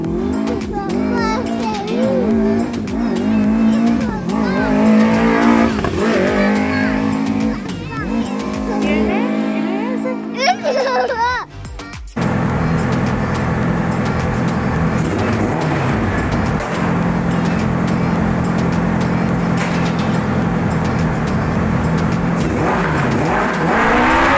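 A Polaris RZR with a swapped Honda CBR 1000 engine runs loud and close after carburetor tuning, revving and droning steadily with one brief dip midway.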